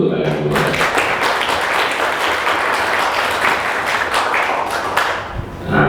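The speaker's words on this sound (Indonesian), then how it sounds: "Aplaus dulu untuk kalian semua" An audience applauding at a leadership talk, dense sustained clapping that fills the room, loud and steady before tapering near the end.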